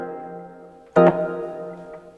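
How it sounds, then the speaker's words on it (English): A sustained chord on a tiny keyboard with a bright, louder chord struck partway through that rings out in a long, reverberant decay from its reverb effect, with no talking. "And then we've got a reverb as well."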